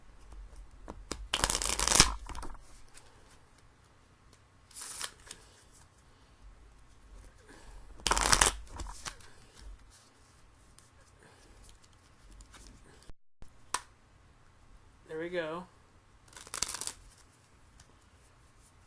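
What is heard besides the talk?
shuffling a deck of cards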